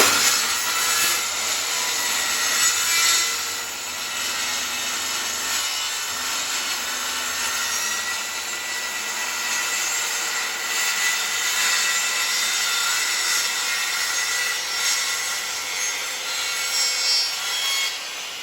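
A circular saw makes a diagonal cut through hardwood plywood with a continuous, loud, rough grinding and rasping roar that lasts the whole time, with slight swells in intensity and no speech.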